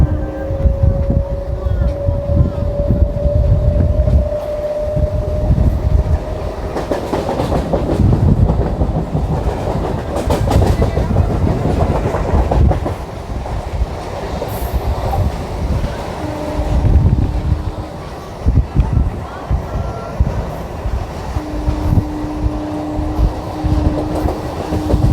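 A passenger train on the Krishnanagar to Ranaghat line rounds a curve, its steady loud rumble and rail clatter running throughout, with wind buffeting the microphone and a drawn-out wheel squeal rising over the noise at times.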